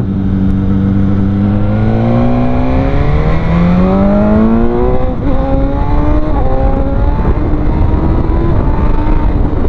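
A BMW S1000R hyper roadster engine and exhaust rev up loud and close, the pitch climbing steadily through the gears with brief dips at each shift, then holding a high, rasping howl.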